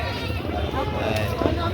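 Goat bleats rise over a busy background of people talking nearby at a livestock auction market, with livestock noise throughout the short stretch.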